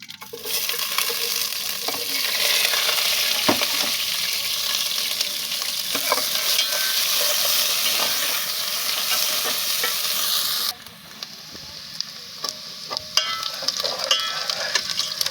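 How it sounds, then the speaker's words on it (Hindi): Onions fry in oil in a pot, hissing in a loud, steady sizzle with scraping stirs throughout; the sizzle drops suddenly partway through, then continues quieter with clinks of the spoon. "तो सबसे पहले हम अपने प्याज को इसमें डाल देते हैं, प्याज को ब्राउन कर लेते हैं।"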